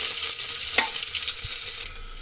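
Onion and curry leaves fry in hot oil with mustard seeds, a bright steady sizzle close up with a brief stirring scrape partway through.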